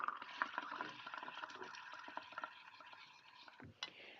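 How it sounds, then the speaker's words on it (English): Air is blown through a straw into liquid in a cup, making a soft continuous bubbling and gurgling with small irregular pops, close and quiet, ending with a brief louder splutter. "So I'm going to blow bubbles."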